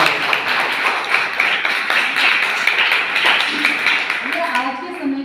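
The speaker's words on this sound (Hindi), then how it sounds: "रिया रिया जी बहुत जोरदार तालियां।" Applause for a student at a college World Water Day event in Meerut, with a broadband patter of hand claps filling the room before voices begin speaking near the end.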